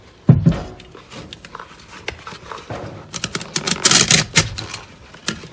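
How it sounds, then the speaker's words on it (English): Spider being cut out of an 8-inch DC Audio speaker during a recone, giving close, irregular scraping and snipping clicks that grow denser and louder toward the end, with no talking. "I think I'm just going to go ahead and cut the spider out first"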